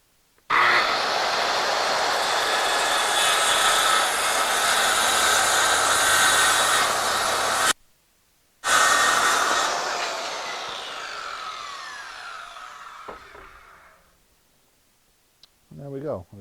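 A power saw cuts a wooden board for a toy box: a loud, steady whine runs for about seven seconds, stops briefly, then resumes and winds down, followed by quiet handling clicks.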